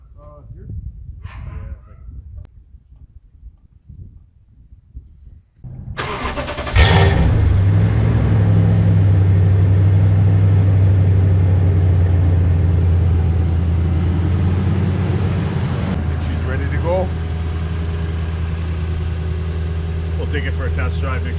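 A vehicle engine cranks and catches after a few seconds of quieter background, then settles into a loud, steady idle that runs on throughout, close by.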